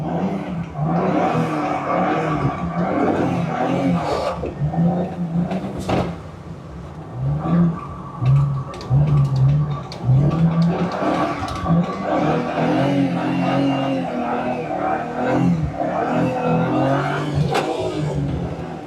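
A BMW 335 accelerates hard on a race track, its engine revving up and down through repeated gear changes with audible gearbox clunks, loud and close throughout.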